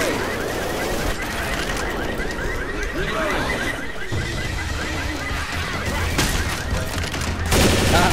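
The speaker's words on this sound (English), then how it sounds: "Ah, I love that explosive ammo." Video game gunfire with explosive ammo rattles in a steady, loud stream of overlapping shots and blasts, close up, with hardly any pause across the stretch.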